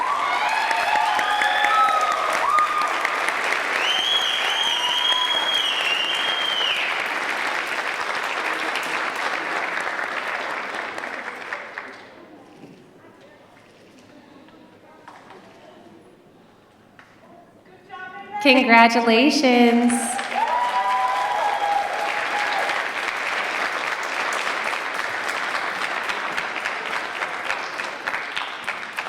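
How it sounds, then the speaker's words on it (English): A pageant audience claps and cheers loudly for a crowned winner, applause fading to a quiet lull midway, then swelling back strongly as a presenter speaks over it. "a big round of applause to our Wee Princess 2025"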